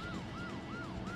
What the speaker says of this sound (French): Et hop, je mets la sirène.